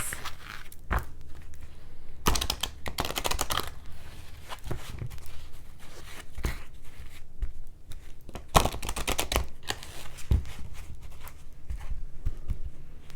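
Large oracle and tarot cards are shuffled by hand in a quiet room, giving close riffling bursts and soft flapping slaps that come in uneven clusters with short pauses between them.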